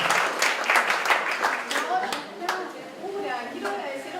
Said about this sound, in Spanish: Así que un aplauso realmente.